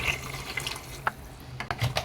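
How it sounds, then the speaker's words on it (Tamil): Water trickles and splashes into a pan of sautéed vegetables for okra sambar, a soft continuous pour broken by a few brighter splashes and drips. "இந்த காய்கறிகள் வேகிறதுக்கு தேவையான தண்ணியை மட்டும் இப்போ ஆட் பண்ணிக்கலாங்க"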